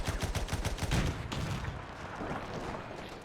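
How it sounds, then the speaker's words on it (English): Artillery fire in the WW1 video game Between Empires booms amid dense, continuous battlefield gunfire, loud and overlapping with a rapid pulsing rhythm that gradually eases, with no voices. "Getting hit by my own bloody artillery."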